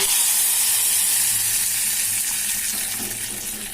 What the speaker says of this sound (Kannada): ಈಗ ಇದಕ್ಕೆ ಒಗ್ಗರಣೆ ಹಾಕೋಣ